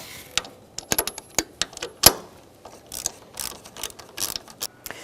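A hand ratchet backs out the top bolts holding a car radiator, a fast series of sharp, close metallic clicks in irregular bursts with no talking.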